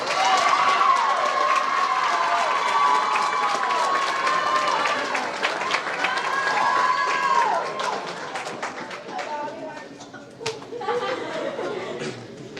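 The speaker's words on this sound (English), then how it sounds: "A big round of applause for El Paso." Audience at a 2022 Texas awards ceremony breaks into sustained applause and cheering for El Paso, a dense crowd roar with whoops and shouts that thins out toward the end.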